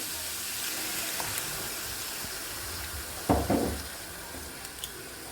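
A glass of water goes into a frying pan of vegetables cooking with allspice and bay leaf, a short loud splash and sizzle bursting midway over a steady background hiss.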